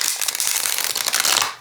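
A deck of tarot cards is shuffled by hand in one quick, close riffle of rapid crisp flutters and papery snaps lasting under two seconds.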